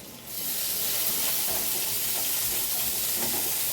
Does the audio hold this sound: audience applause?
no